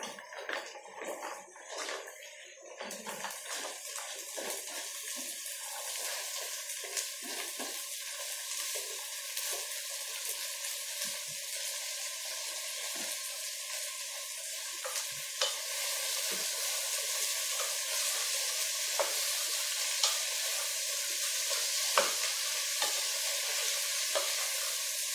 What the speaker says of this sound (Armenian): լոբի լցնելու ժամանակն է